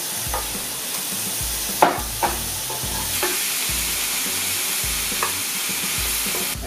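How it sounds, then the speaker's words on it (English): Scallops and prawns frying in a hot pan, a steady broad sizzle with occasional stirring clacks and pops, close and alone with no talk. "we're going to put in the seafood last, because the seafood only takes 2 minutes to cook. So this is scallops and prawns."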